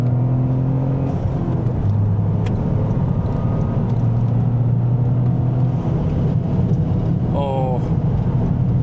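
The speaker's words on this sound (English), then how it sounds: "the engine and exhaust combo, it just sounds so good" A Toyota GR Corolla's engine and exhaust drone steadily as the car accelerates, heard from inside the cabin with strong wind and road noise running underneath.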